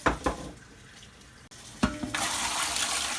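Three litres of water runs and splashes steadily into a canning pot, with a few clunks at the start and a brief break before the flow resumes, louder and broader.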